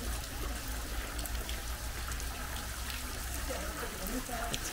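Water trickles and splashes steadily at the purification fountain of Ise's Outer Shrine, a soft continuous flow heard up close at low volume, with faint voices nearby.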